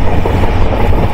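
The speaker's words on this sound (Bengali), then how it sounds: "তো এইমাত্র একটা টানেলের মধ্যে দিয়ে আমাদের ট্রেন ঢুকে গেছে" A passenger train bound for New Jalpaiguri runs through a tunnel, producing a loud, close, continuous rumble with rapid clattering of wheels on the rails.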